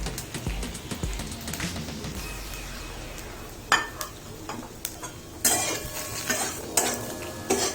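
Taro root (arbi) stirred with dry masala and green chilli in a pan, a steady scraping and clinking of a spoon against metal, with faint sizzling underneath and a few sharper knocks near the end, no talk.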